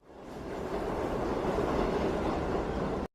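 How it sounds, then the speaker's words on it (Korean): A subway train rolls into a station, a steady, fairly loud rumble of rail noise with wind-like whoosh that builds quickly and holds for several seconds before cutting off abruptly. "멀리서 전철이 들어오는 소리가 들려오기 시작했습니다."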